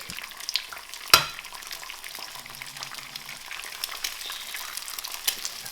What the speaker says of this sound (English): the second pan and start to fry your eggs there